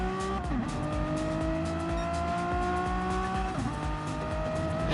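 Renault Megane race cars in a racing video game roar continuously at close range, engines revving up and down through gears with tyre squeal mixed in, no talk.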